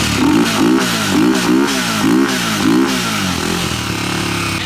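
A Mitsubishi 3000GT VR-4 engine revs close up in four quick, rhythmic throttle blips, each rising and falling, before it settles to a steady idle. No one speaks.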